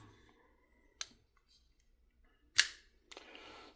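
Kershaw Zing folding knife, a manually opened non-assisted blade with an angled thumb stud, snapping open and shut: a few sharp, crisp metallic clicks, one near the start and two close together toward the end, with near-silence between them.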